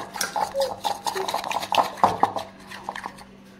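Marinated chickpeas for chana fry being mixed in a bowl, with a spoon clinking and scraping against the metal in quick irregular strokes at close range.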